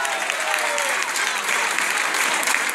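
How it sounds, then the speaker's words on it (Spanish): Dance party crowd in Gijón bursts into steady, dense applause, loud and sustained throughout with a faint voice briefly audible early on. "fuerte el aplauso para él."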